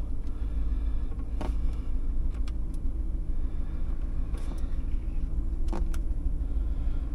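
A 2010 Cadillac Escalade's engine runs at a steady idle with a low, continuous rumble, joined by a few faint clicks and brief bursts of noise.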